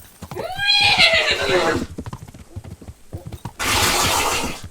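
Horses in the video game Kingdom Come: Deliverance whinny loudly twice, a long rising-falling neigh followed by a shorter burst, with hooves clopping between the calls.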